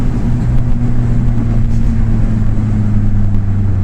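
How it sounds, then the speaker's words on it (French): Cupra Leon stage 2 with about 400 horsepower held at full throttle, a steady low droning engine hum with strong constant tones, continuous and fairly loud inside the cabin, no voices. "je vais essayer d'accélérer un peu. Là, je suis à fond"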